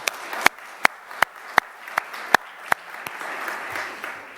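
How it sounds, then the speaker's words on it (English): A summit audience claps, sharp separated claps in a steady rhythm at first, then swelling into broader continuous applause from a crowd at a formal event. "we'll give him a round of applause too"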